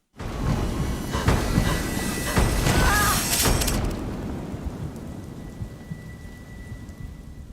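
Heavy rain pours with crashing thunder in a horror movie trailer about a massive 1996 Rio storm around a collapsing nursing home; loud rumbling peaks early, then the downpour continues steadily as the thunder fades.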